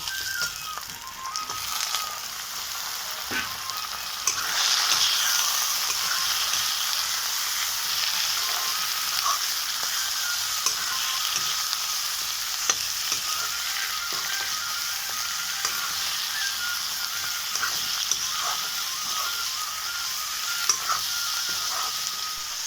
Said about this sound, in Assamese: আৰু এতিয়া আমি দিম মাংসখিনি এইখিনি মাংস দি দিছোঁ